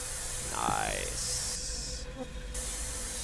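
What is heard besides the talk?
spray paint can spraying in a video game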